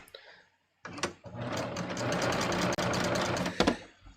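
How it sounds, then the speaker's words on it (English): A serger sewing machine stitches fabric for a raglan sleeve top, starting with a couple of short whirring bursts and then running in a steady, close, fast mechanical hum before stopping briefly and finishing. "So I'm going to just go ahead and start serging."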